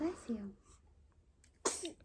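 A single quiet indoor sneeze bursts out sharply near the end, after a moment of soft talk and near silence.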